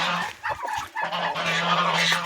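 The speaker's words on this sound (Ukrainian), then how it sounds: "О, два індюка" Two turkeys, a young one and its father, call in a farmyard with bursts of gobbling and squawking, fairly close, amid scattered rustling.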